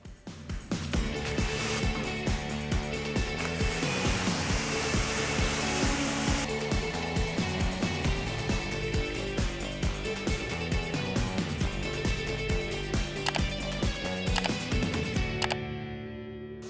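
Dust and debris are washed off a car, with a loud, continuous hiss of spraying water dominating throughout, rough pulsing underneath, close by and fading out at the very end.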